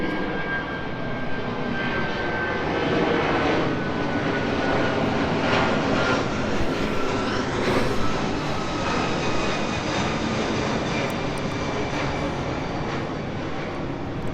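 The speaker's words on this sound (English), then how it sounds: "here comes another airplane" Airplane engine roar fills the air steadily at a boat yard, a broad loud drone holding for the whole stretch as the plane passes overhead.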